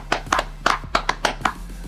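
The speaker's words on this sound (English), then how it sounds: "we have to give him a round of applause" A few hands clap in a short irregular round of applause, sharp close slaps of about eight claps spread over two seconds, with no voices.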